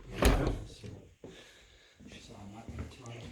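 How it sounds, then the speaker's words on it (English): A wooden cedar gate swings shut with one loud close thud near the start, then quieter handling noises, with someone speaking nearby. "here's a gate into the back. All wood, looks like cedar. So I'll come back in here. I'm gonna shut this."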